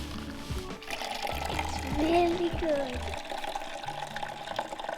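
Apple juice streams rapidly from a hydraulic apple press, a continuous gushing, splashing flow heard close up while a person speaks over it.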